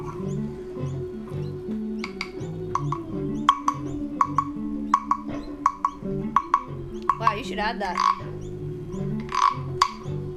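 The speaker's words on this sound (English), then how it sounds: "That frog has got good acoustics." A hollow frog-shaped wooden percussion instrument is struck and scraped in a repeated knocking rhythm, sharp clacks and a ratcheting rasp, while people talk over it.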